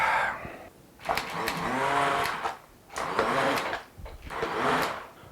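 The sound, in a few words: immersion blender pureeing pumpkin soup in a pot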